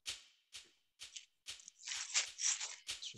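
A dry shaker pattern begins as steady evenly spaced hits, then turns into denser, busier rattling shakes, played alone at moderate loudness.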